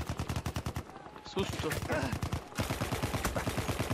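Rapid bursts of automatic gunfire in the video game Battlefield 1, evenly spaced sharp shots repeating in quick succession with a brief pause midway, while a voice briefly speaks over it.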